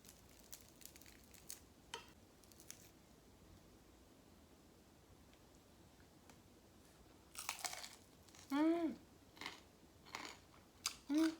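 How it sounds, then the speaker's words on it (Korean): Crispy julienned potato pancake is bitten and chewed up close, giving a few sharp, dry crunches in quick succession near the end after a mostly quiet stretch. "바삭거려요."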